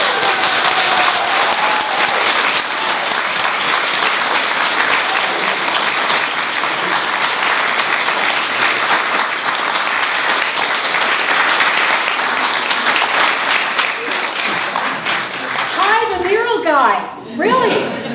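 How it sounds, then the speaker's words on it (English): An indoor audience at a welcome centre floor reveal claps in sustained, loud applause, a dense even wash lasting well over ten seconds before tapering off near the end. "please, a big round of applause for"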